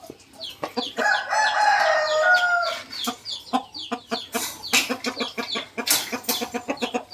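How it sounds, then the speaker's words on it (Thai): Several fighting roosters cluck in quick, sharp bursts, with a drawn-out crow early on and more loud crowing calls breaking through near the end. "ไก่เลือด ไก่ชน"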